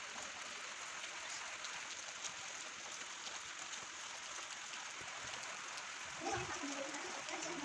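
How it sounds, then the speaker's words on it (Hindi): Rain falling outdoors over wet farm fields in Uttarakhand, a faint steady hiss of drops with a soft, brief rustle near the end and no talking. "आप सब सुन रहे हैं बारिश की बूंदें गिरने की आवाज़"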